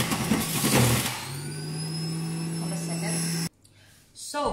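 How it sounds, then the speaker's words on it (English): An electric juicer runs steadily while juicing fruits, giving a loud, continuous motor whine with a sustained drone that cuts off abruptly near the end before a brief restart. "let me start juicing the fruits. Yeah, hold a second. I know the sound is a little bit irritating,"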